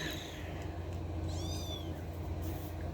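A mother cat meows faintly indoors near a food bowl in a hallway, one rising call over a low steady background hum.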